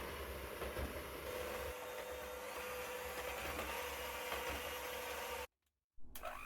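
A KitchenAid 5KHM9212BER hand mixer whisks powdered sugar with its cake beaters, a steady faint motor whir running continuously before cutting out abruptly for about half a second and resuming.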